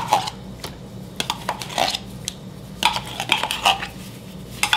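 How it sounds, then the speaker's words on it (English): A spoon scraping organic tomato paste out of a container, producing a series of close, clinking and scraping taps at irregular intervals with short pauses between them and no talking. "I just spoon it out."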